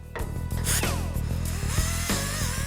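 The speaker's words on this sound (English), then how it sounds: "I use an air grinder to prep the surface for welding" An air grinder preps the body surface of a Hurst Oldsmobile muscle car for welding, giving a loud, continuous whine whose pitch rises and falls as the tool is pressed and lifted, with no talking.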